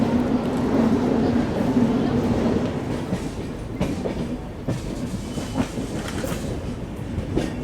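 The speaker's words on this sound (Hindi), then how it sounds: "अपनी ट्रेन डिपार्ट कर रही है राजमुंड्री रेलवे स्टेशन से" A train pulls out of Rajahmundry railway station in Andhra Pradesh, heard from inside an AC superfast express coach as a steady loud rumble with rhythmic clickety-clack of wheels over rail joints.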